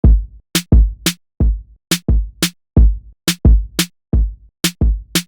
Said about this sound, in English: I do have a drum loop I put together a while back that has the general groove I'm imagining